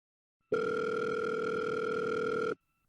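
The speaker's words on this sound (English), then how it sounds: "We should do a different ring every week, like it's really a phone call." A single continuous electronic telephone tone sounds for about two seconds at moderate level, clean and steady, then cuts off into silence.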